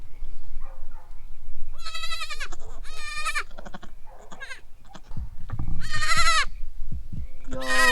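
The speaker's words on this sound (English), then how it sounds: "I got a baby goat." A newborn baby goat bleats repeatedly in high, wavering cries, several close calls spaced a second or so apart, with faint rustling and movement between them.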